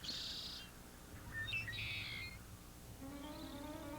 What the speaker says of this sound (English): A red-winged blackbird can have a Maine accent, a Jersey accent, even a Southern accent.